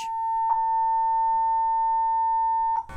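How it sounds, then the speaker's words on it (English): A steady electronic alert tone before an earthquake drill announcement holds at one pitch for nearly three seconds, with short blips near the start and end. "before these announcements, you'll hear distinctive tones alerting you to stop and listen for the message"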